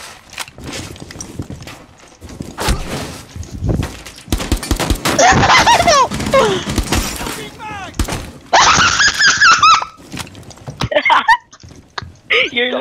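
Video game shootout gunfire, loud bursts of sharp cracks and metallic shattering impacts in quick irregular clusters, mixed with clattering effects and brief voices.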